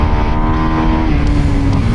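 A Buell Super Cruiser motorcycle engine pulling hard in first gear on a road at Sturgis, a loud, close, continuous drone with a gradually rising pitch and no voices.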